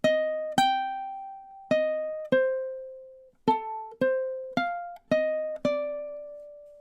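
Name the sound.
ukulele playing measure 17 of a tune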